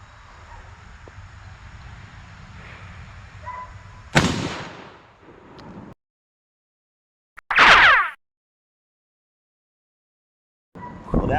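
Mosin Nagant rifle firing steel-core armor-piercing rounds at a Level III armor plate on an outdoor range, two sharp loud cracks several seconds apart, each with a brief ringing tail, then silence.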